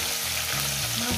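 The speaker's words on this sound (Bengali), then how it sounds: "মাছগুলো দিয়ে আমি ভালো করে ভেজে নেব।" Lailon tika fish fry in hot oil, a dense close sizzle and crackle filling the short moment without a break, loud and steady.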